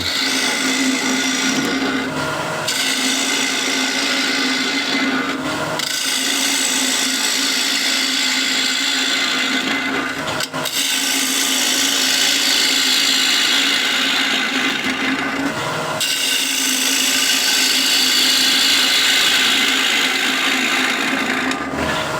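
A power tool hollows out a piece of wood, grinding loudly and steadily close by in long passes broken by brief pauses every few seconds, with no talking.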